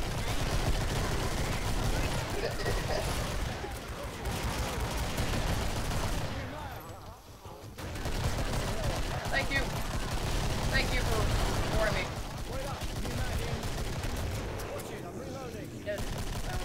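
Dense, continuous gunfire in the co-op zombie shooter game Killing Floor, with rapid automatic bursts running almost nonstop and only a brief lull midway, played loud under a busy mix.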